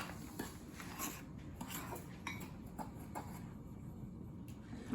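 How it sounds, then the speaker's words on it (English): Cinnamon sugar mixture stirred in a bowl, quiet repeated clinks and scrapes of a utensil against the dish, soft and fairly steady with no talking. "So you're gonna wanna stir this for a little while."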